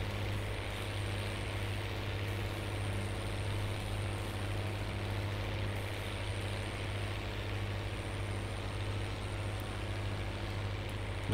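An MB Trac tractor engine runs at a steady, low rumbling idle on a farm, heard close and continuous with no talk over it.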